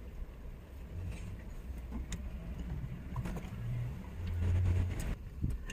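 A new Ford Explorer-like vehicle backs up and drives off, its engine a low, fairly faint rumble that swells briefly as it pulls away.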